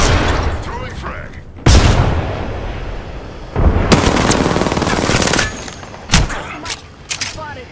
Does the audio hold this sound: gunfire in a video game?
yes